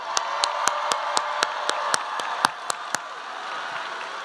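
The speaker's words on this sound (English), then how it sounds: "there's going to be a lot of clapping today" Graduation crowd of graduates, families and guests applauding in a large venue, a sustained wash of clapping with a few sharper claps standing out, moderately distant and steady throughout.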